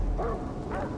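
A dog in the Far Cry 3 video game gives two short, muffled barks or yelps within about a second, set against steady background game noise.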